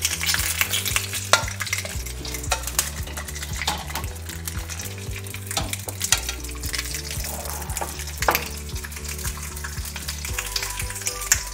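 Mullet roe pan-frying in a pan, a steady close sizzle with repeated scraping and stirring clatter throughout, no talking.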